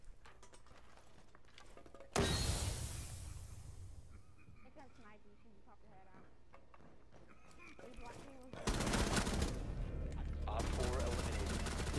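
Gunfire in the video game Rainbow Six, with sustained bursts of rapid shots that start suddenly and return later, loud and dense, mixed with footsteps and game ambience while players talk throughout.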